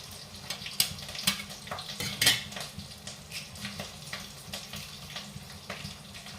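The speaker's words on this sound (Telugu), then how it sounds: "పచ్చి ఉండలేరు కాబట్టి ఎగ్ ఫ్రైడ్ చేస్తున్నాను అనమాట జస్ట్ టూ ఎగ్స్" Two eggs frying in an oily pan, a light close sizzle broken by scraping and clinking of a spatula or spoon against the pan, with no voices.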